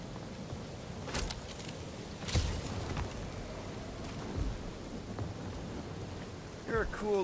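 Steady rain hisses throughout in the video game Marvel's Guardians of the Galaxy, with a few sharp cracks and low rumbles breaking through; a brief rising tone near the end.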